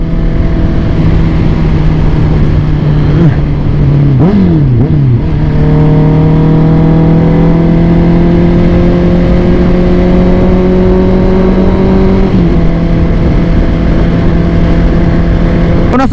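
A Honda CB650R motorcycle ridden on an open road in Cadiz City, Negros, gives a loud, steady engine drone that dips and then climbs again through gear changes, with wind noise throughout.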